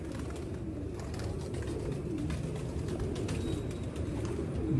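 Pigeons coo repeatedly in soft, rolling calls over a dense, close ambient hum, with no talking.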